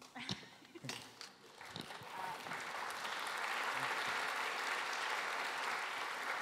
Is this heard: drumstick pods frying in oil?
no